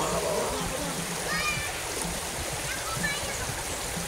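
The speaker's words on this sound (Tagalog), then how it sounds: "sa gitna yung ilog nila, sa gitna ng dalawang bundok na yan" A river flowing between two mountains near the Wawa Dam in Montalban, heard as a steady, full rush of water with light splashing, close and continuous throughout.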